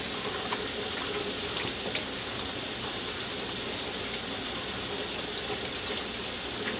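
Running tap water pours steadily over a pressure cooker to cool it, a close, continuous rushing stream of water at an even level throughout.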